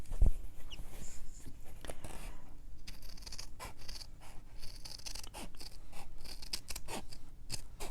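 Scissors snip through stiff felt for a needle book cover, a quiet close series of crisp cuts and scratchy scrapes repeating irregularly throughout.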